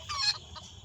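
A chicken in the Roblox video game gives a couple of quick, faint clucks in under a second.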